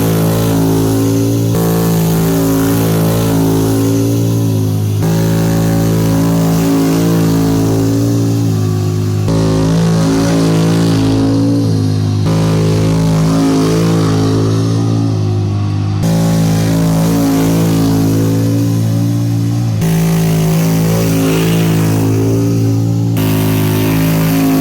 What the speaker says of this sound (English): So we ended up making multiple passes with the truck.